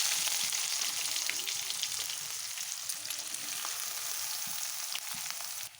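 Mustard and cumin seeds crackle and sizzle steadily in hot oil in a village kitchen, a close, continuous frying hiss dotted with small pops.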